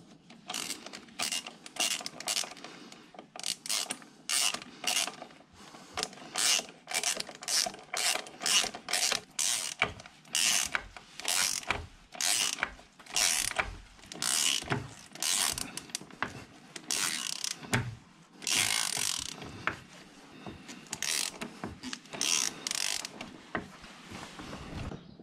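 A greased lag screw is driven into a timber roof frame with a ratchet. Bursts of close, dry clicking repeat again and again with short gaps between them, and no voices.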